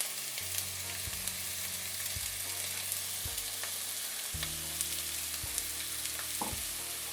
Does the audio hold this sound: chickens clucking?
no